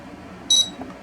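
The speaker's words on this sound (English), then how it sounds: "it beeps and they get reset." An aquarium controller touchscreen gives one short, bright electronic beep as its min-max readings reset, clear against a quiet room background.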